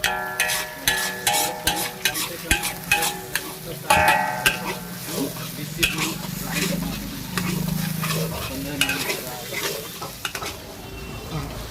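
A Schezwan chutney mixture is stirred in a pan, with clattering utensil knocks and scraping over a soft sizzle, while people talk nearby throughout.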